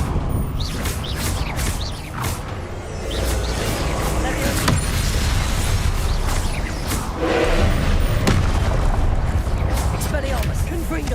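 Confringo blasting spell cast again and again in Hogwarts Legacy, sharp bursts landing over a dense, continuous rumble of game effects, with a voice talking throughout.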